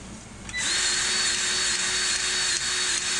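A battery-powered grease gun starts with a click and runs a steady, loud motor whine while pumping grease into a trailer axle fitting on a cold day, with no voices.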